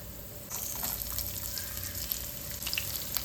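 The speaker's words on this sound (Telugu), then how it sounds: "పల్లీలతో పాటు నేను మినప్పప్పు కూడా యాడ్ చేస్తున్నాను జీలకర్ర ఆవాలు కొంచెం ఇవి వేగిన తర్వాత" Peanuts, urad dal, cumin and mustard seeds fry in hot oil, giving a soft, continuous sizzle with scattered small pops that starts a moment in, close but fairly quiet, with no talk.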